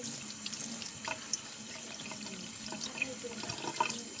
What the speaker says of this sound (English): She washes off both sides real good